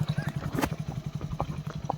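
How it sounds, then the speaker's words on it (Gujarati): A mare's hooves clip-clopping past in a village procession, an even, rapid rhythm of faint knocks over a low engine-like hum, fairly distant and quiet. "ઘોડી જાય છે."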